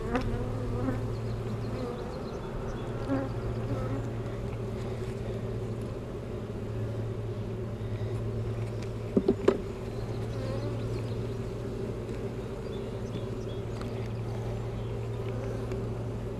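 A dense, steady buzz of many honeybees at an open hive during inspection hums continuously, close and even, with a couple of brief clicks partway through.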